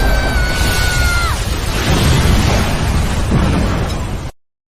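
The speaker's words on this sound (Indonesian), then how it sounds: "terjadilah ledakan yang sangat besar di tempat itu" A very large explosion in a 2016 kung fu film scene roars loud and close as a sustained blast that rumbles on for about four seconds before cutting off abruptly. A high whine fades out early in the blast.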